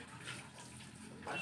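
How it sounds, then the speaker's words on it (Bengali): Water runs and splashes as a greasy metal bowl, oily from fish, is washed by hand in a home kitchen, a steady close wash of flowing water lasting about a second and a half. "এগুলো ধুয়ে নিচ্ছি জলে"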